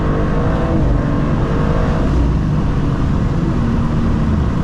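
A 780-wheel-horsepower BMW M2 G87 with port injection, beadlock wheels and Nitto tires accelerates hard in second gear, its engine a loud, close, continuous roar that holds steady throughout.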